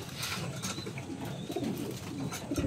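Pigeons coo softly and continuously at close range, their low murmuring joined by faint higher chirps. No one speaks.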